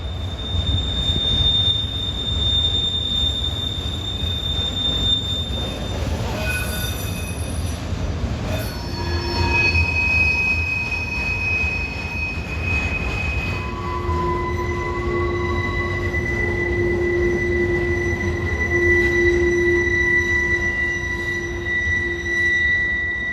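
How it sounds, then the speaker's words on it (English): A long CN freight train rolls off the wye into Markham Yard, its wheels squealing in sustained high, shifting tones over a steady low rumble of rolling cars, loud and close throughout with no talk. "that CN freight coming off the Y heading into Markham Yard"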